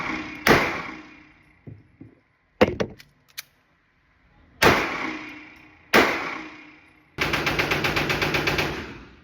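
Sharp 9mm pistol shots at outdoor target practice, several single reports spaced apart followed by a rapid string of shots near the end, loud and close with no talking.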